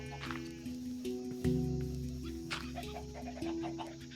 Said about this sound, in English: Little chicken friends.